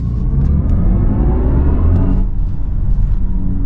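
BMW i4 M50 electric car driving with its synthetic drive sound, a loud, steady low rumble and hum that rises slightly in pitch then settles, close and continuous with no talk.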